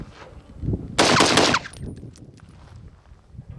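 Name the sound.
rifle firing three rounds from a DSA polymer magazine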